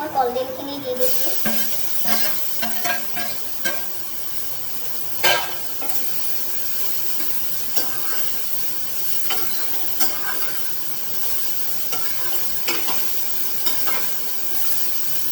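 Banana flower stir-frying in a pan with turmeric, a steady sizzle broken by repeated scraping stirs, plus a few metallic knocks and clinks from a utensil against the pan.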